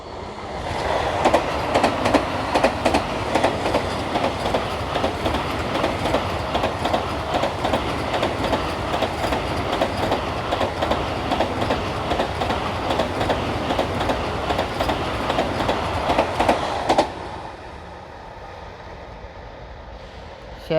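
A Vande Bharat Express overtakes a train halted at Shahabad Markanda, a loud continuous rushing roar with rapid wheel clicks that cuts off sharply near the end, leaving a quiet hum.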